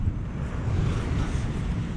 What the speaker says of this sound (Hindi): तब वो देखो वहाँ पे, क्या लहरें हैं भाई